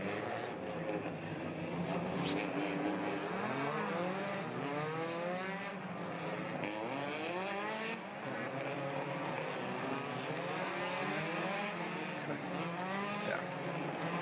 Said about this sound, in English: Cars are going by.